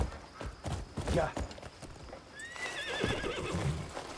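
A horse in the video game Crimson Desert clip-clops with hoof beats, then whinnies with a long, wavering neigh in the second half, close and fairly loud over the game background.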